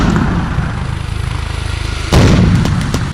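Armored vehicles of the Serbian army fire during a military exercise, a run of rapid, rhythmic thumps followed by a sudden loud blast and a few sharp cracks, close and strong.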